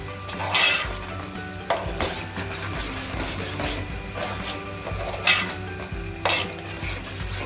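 Onion paste and chopped onions fry in a pan with a continuous sizzle, broken by repeated scraping stirs and a few louder clanks of a utensil against the pan.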